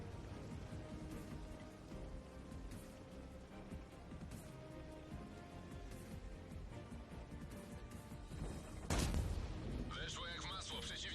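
Tank cannon fire in the World of Tanks video game, a single heavy blast standing out near the end over steady game rumble and battle noise, with a player talking throughout.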